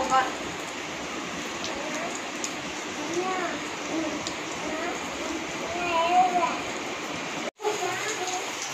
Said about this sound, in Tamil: நல்ல மழை இன்னைக்கு வந்து செம்மையாக நாங்கள் வந்து என்ஜாய் பண்ணிகிட்ருக்கோம்